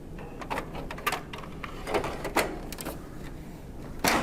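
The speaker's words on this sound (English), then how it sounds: "replace the ink ribbon cartridge" Scattered sharp plastic clicks and light knocks sound close up as an ink ribbon cartridge is fitted into an Entrust Datacard CR805/CR825/CE875 card printer, ending in a firm snap.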